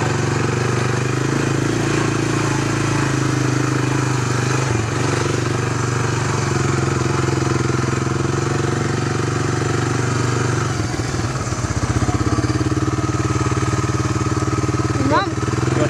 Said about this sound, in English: Adventure on the four-wheeler.